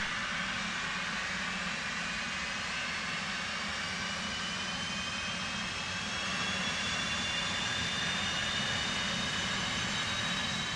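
Steady jet engine roar from an F/A-18C in the DCS flight simulator, a continuous loud whine with rising high tones over a broad rumble, constant throughout with no talk.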